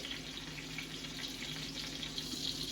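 Chicken frying in a pan for chicken marsala, a steady, even crackling sizzle heard fairly faintly and close, with no talk over it.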